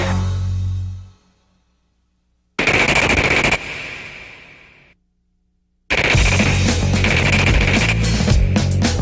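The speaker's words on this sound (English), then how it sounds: "our qualifying gunners feel the heat on the night firing range" Tank machine guns fire at a night firing range: loud rapid bursts of automatic gunfire, separated by short silences, with one burst fading off and a longer sustained burst at the end.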